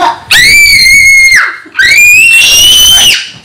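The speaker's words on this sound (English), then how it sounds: "now that the girl stopped screaming" A girl screams two long, piercing, high-pitched screams, very loud and close, separated by a brief gap.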